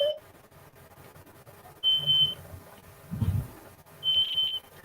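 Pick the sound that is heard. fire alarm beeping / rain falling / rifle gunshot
fire alarm beeping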